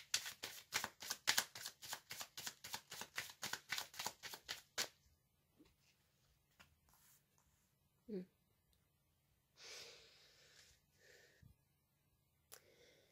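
Tarot cards being riffle-shuffled by hand, a fast run of about fifteen crisp, even flicks that stop abruptly, followed by quiet, sparse rustles and soft taps as a card is drawn and laid down, close and alone.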